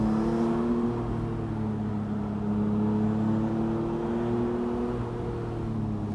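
Maserati MCPura twin-turbo engine, boost around 30 PSI, heard from inside during a road drive, a steady close-up drone with rising and falling harmonic tones as revs shift, continuous throughout.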